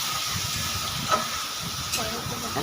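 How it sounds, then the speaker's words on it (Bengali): Spice masala fries in oil in a pan while being stirred, a quiet continuous sizzle with soft scraping strokes and a faint clink, no talk. "এই দেখো মশলাতে কষানো হচ্ছে"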